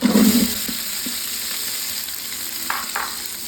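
Chopped onions sizzle and crackle steadily in a hot pan, with a stirring scrape at the start and brief clinks later, close and moderately loud.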